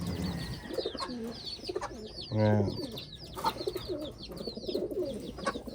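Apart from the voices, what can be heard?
pigeons cooing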